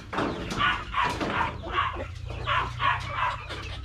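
Chickens cluck and chatter in quick, repeated bursts, close by and fairly steady, over a low background hum.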